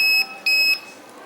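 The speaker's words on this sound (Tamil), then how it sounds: "இங்கே கிரவுண்டோட ஷார்ட் ஆகிறதுனால அந்த பீப் சவுண்ட் வருது" A multimeter gives a shrill electronic continuity beep while testing a shorted capacitor on a mobile phone board: two short, loud tones separated by a brief gap, with no talking.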